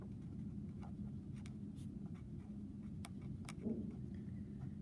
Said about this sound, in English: That's what I'm going to write right here.